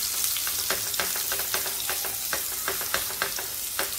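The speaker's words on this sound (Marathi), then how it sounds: "आता ह्यामध्ये मी लसूण ठेचलेला आणि आलं, लसूण, मिरचीचं वाटण होतं ते घालतेय" Crushed garlic and a ginger-garlic-chili paste hitting hot oil in a pan, a loud, steady close sizzle with crackling pops and the scrape of stirring throughout.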